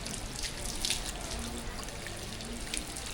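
Water splashes and runs steadily while a dog named Tiger is bathed outdoors at night, a continuous close wash of pouring with small splashy peaks.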